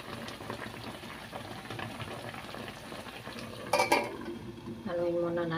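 A spoon scrapes and knocks against a pot of bangus, okra and mushroom stew, soft clinks over a low simmering bubble, with one sharper clatter partway through.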